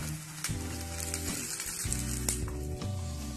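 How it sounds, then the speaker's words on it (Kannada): Curry leaves sizzling in hot oil with cashews in a pan for South Indian khara pongal, giving a steady close crackle and hiss with faint stirring clinks. "ನೋಡಿ ಚೆನ್ನಾಗಿ ಫ್ರೈ ಆಗ್ತಾ ಇದೆ"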